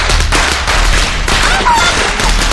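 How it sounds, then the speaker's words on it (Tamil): Firecrackers set off during a family scene in a Tamil film, a dense, loud crackling barrage of rapid pops running continuously, with shouted voices faintly mixed in. "பட்டாசு வச்சிருக்கான்"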